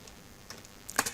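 Short burst of typing on a computer keyboard while entering a Magnavox model number, a few faint keystrokes and then a quick cluster of louder clicks near the end.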